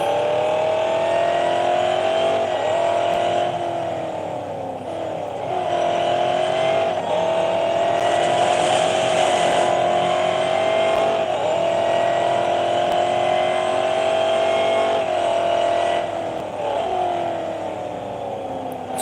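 A race car engine from EA Sports Real Racing 3 holds a loud, steady high-revving drone for the whole stretch, with brief dips and rises in pitch at gear changes, close and continuous with no talk.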